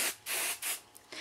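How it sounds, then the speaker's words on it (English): Hairspray from an aerosol can hisses onto styled hair in four short bursts, close and crisp, with brief pauses between sprays. "I'm going to spray it."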